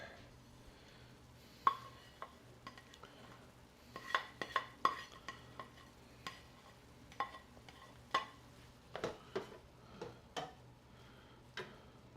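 Onions and garlic cook in a pan as a utensil scrapes and clacks against it in irregular bursts over a faint, soft sizzle, close up and fairly quiet.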